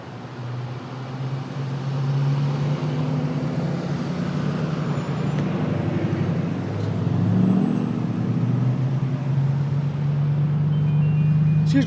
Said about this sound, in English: You'll notice every one of these cars is going into the opposing lane of traffic